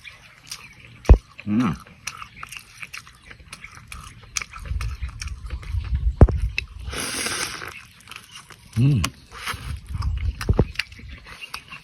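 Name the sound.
biting crunchy fried chicken skin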